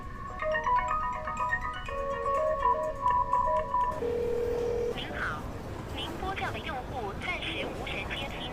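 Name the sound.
mobile phone call ringing unanswered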